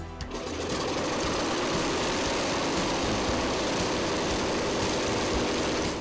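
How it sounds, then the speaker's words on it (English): An engine runs steadily and loudly throughout, a continuous droning rumble that drives water spray in a skylight water penetration test. "Gentlemen, start your engine."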